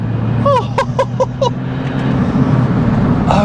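Remapped Smart 451 Brabus car accelerating hard in third gear, a steady loud engine drone running throughout, with a brief burst of chirping or whistling sounds partway through.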